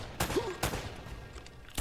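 Enemy gunfire in the game Uncharted: Drake's Fortune, several sharp shots cracking at irregular intervals over low background rumble, fairly close.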